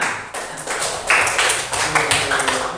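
A class of schoolchildren claps hands together, a scattered burst of sharp smacks that comes in uneven waves over a few seconds, close and fairly loud.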